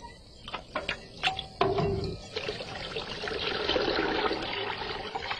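Water hauled up from a very deep natural well by a rudimentary hand winch pours and trickles, with a few drips and splashes giving way to a steady, close rushing flow.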